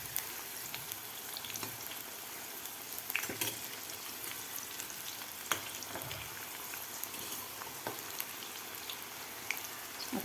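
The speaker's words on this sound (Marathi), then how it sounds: "आता आपल्याला व्यवस्थित हे गोल्डन कलर होईपर्यंत आपल्याला तळून घ्यायचे आहेत" Mixed vegetable pakoras deep frying in hot oil, a steady dense crackling sizzle throughout with a few sharper pops and spatters, close and moderately loud, no voices.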